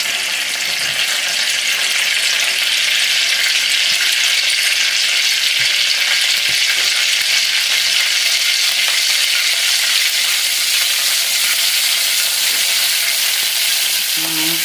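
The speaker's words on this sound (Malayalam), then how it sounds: "ഒരു 2-3 തരി കടുക് ഇട്ടേക്കാം. കടുകൊന്ന് പൊട്ടിച്ചേക്കാം." Mustard seeds pop and splutter in hot coconut oil in a pan, a steady loud crackling sizzle that runs unbroken and close, with a few faint clinks near the end and no talk.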